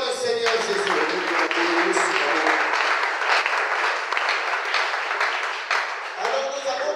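A church congregation applauds, acclaiming Jesus: loud, dense clapping fills the space continuously, with a voice speaking and calling out over it.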